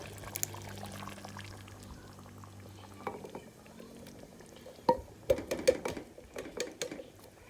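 Tomato puree pours from a can for lasagna, a soft, thick, gloppy pour with a low glugging start followed by wet plops and splats near the microphone.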